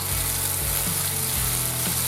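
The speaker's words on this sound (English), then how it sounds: "Put some butter in your frying pan, maximum heat. Add your mussels." Mussels sizzle loudly in butter in a frying pan on maximum heat, a steady close crackle with faint scraping stirs and no talk.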